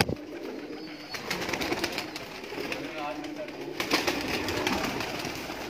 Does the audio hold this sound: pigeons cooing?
yes